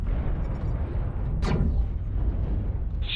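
Artillery strike in the mech combat game Mechwarrior Online: a single sharp whistling, whooshing burst cuts through a dense, steady rumble of battle noise, with a brief bright hiss near the end.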